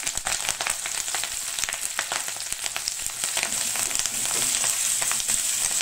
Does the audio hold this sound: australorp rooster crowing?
no